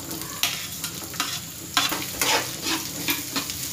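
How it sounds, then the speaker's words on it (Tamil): Onions fry in oil for curry leaf chutney, a continuous close sizzle punctuated by regular spatula clicks and stirring scrapes, with no talking. "இப்போ வெங்காயம் நல்லா வதங்கட்டும்."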